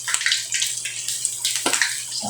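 Water gushes and splashes into a cooking pot while sisig is being made, a close, loud pour with bursts of sloshing and bubbling that rise and fall in quick surges.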